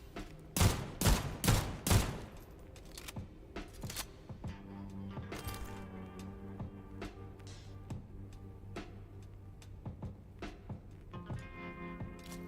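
Salamander gun firing in a first-person shooter game, opening with a rapid burst of four or five loud close shots, then sparser single reports and clicks over a low humming game background.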